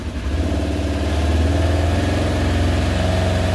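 Polaris Ranger 900XP UTV engine revving up steadily from idle, a loud, close, continuous mid-low engine roar with a throbbing rhythm and no talk over it.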